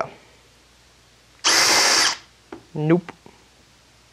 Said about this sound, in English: I gotta get a stepped drill bit because these not working for me